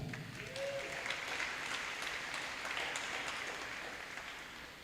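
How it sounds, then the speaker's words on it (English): Applause at a middle school promotion ceremony for 7th and 8th grade honor students, a moderate crowd clapping steadily, somewhat distant and softish, tapering slightly toward the end. "Let's give them all a round of applause, guys."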